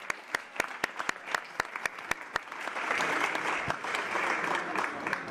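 A conference audience at the opening of a climate Youth and Future Generations Day starts with a few scattered, sharp claps that swell into dense, sustained applause from the crowd.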